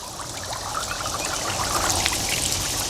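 Water streams and splashes steadily from an AMZtime 15W solar fountain pump, a continuous close trickling pour with bright splashy texture and no talking.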